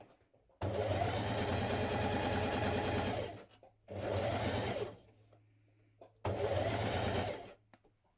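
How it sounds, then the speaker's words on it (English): Domestic sewing machine running ease stitches around the tops of blouse sleeves, three bursts of steady close whirring separated by short pauses, with a low hum underneath. "Now we're going to do a line of ease stitching around the top of each of our sleeves."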